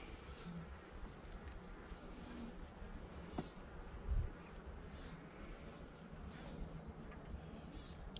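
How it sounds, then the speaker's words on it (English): Honeybees humming on a hive frame during a December hive inspection, a low continuous droning buzz that stays quiet and even, with a brief nearby thump midway. "This next one got a lot of bees on it."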